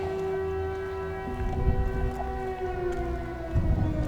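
Wailing air raid siren sounding across Kupiansk in wartime Ukraine, a steady sustained tone with overtones that persists throughout, moderately loud and alone without speech.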